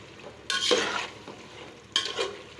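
Chicken sautés in a yogurt and chili masala for biryani as a utensil stirs it, giving two bursts of scraping and sizzling over a steady low frying hiss.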